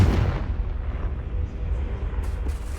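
A Confringo fire spell bursts in Hogwarts Legacy, a loud deep boom opening the clip that rolls into a sustained low rumble and crackle lasting nearly three seconds.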